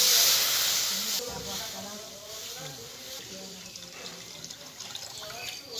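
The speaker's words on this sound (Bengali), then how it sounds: "এখন আমি কড়াইতে দুধ দিয়ে দেবো।" Milk is poured into a hot wok and meets the heated surface with a sharp hiss that fades into a softer, bubbling simmer, with a faint voice in the background.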